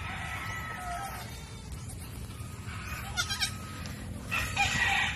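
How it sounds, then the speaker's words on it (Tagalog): Goats bleat on a farm among cattle and other livestock, a few calls rising over steady outdoor background noise, with a rooster or other fowl also calling nearby. "So nadagdagan na naman yung ano namin mga kambing."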